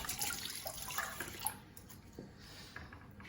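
Tap water runs and splashes while hands are washed, a soft nearby hiss that tapers off partway through.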